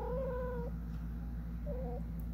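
A cat meows twice, close and fairly soft, with a drawn-out wavering call at the start and a shorter one near the end over a steady low indoor hum.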